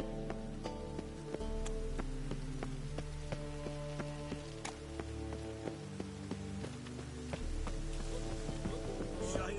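Steady rain patters continuously under sustained musical tones in the video game The Witcher 3, with occasional sharper drips and knocks standing out.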